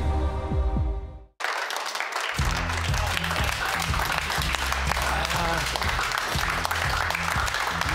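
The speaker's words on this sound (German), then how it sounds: "Ja, Applaus, Applaus für Borussia Dortmund." Stadium crowd at Signal Iduna Park applauding Borussia Dortmund at half-time in a Champions League match against Atlético Madrid; a dense, loud wash of clapping and crowd noise follows a brief cut, with a voice talking over it.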